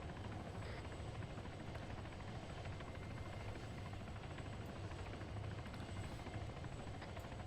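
Helicopter in the military video game ArmA 3, a steady dense rotor and engine roar with a low chopping pulse that holds constant throughout, loud and with no other sounds over it.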